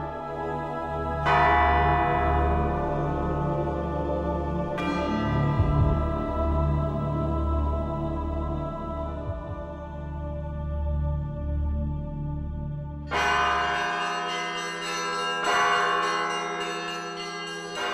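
Church bells of the Solovki monastery ring out loud and near, several large bells struck in slow succession with long humming decays, then a brighter cluster of smaller bells joins in a dense peal.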